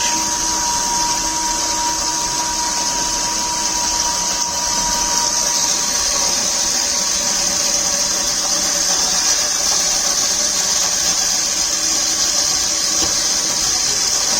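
Motorized screw jack with gear reduction lifting a 20-liter water can, a loud steady electric motor whine with a high gear hum, running continuously without pause or talk.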